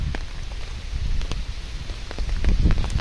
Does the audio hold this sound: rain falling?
yes